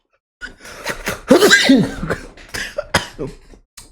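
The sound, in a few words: sneeze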